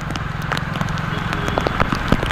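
Heavy rain in Surat on a street beside a gutter: a dense, steady patter and splashing of rainfall, close and continuous throughout, with scattered sharper drips.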